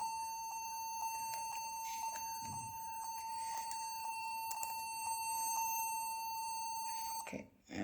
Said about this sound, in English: it is creating some beep sound